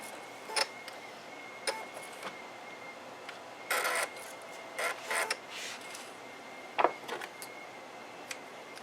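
A sewing machine back stitches on fabric for a bowl cozy in a few short, quiet mechanical bursts, with creaks and ticks separated by silent gaps.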